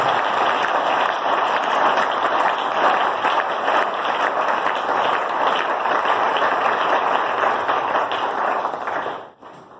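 A church congregation applauding and acclaiming God, with dense sustained clapping and cheering from a large crowd that continues loudly throughout before cutting off abruptly at the end.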